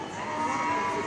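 A large animatronic dinosaur in a retail store lets out a single drawn-out, low mooing roar that sounds much like a cow, steady and moderately loud for about a second.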